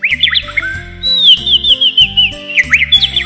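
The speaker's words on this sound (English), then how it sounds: "It sounds like a singing bird." A children's toy key plays a cheerful singing-bird sound: bright, warbling chirps and whistled trills over a bouncy, plinking electronic melody, loud and close without any talking.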